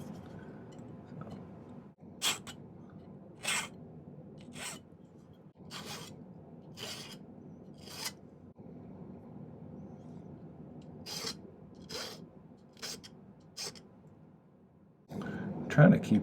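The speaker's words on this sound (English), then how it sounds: "I can just use the file to finish it up" A metal file rasps across a silver malachite ring in a silversmith's workshop, a steady series of short, close strokes with a louder scrape near the end.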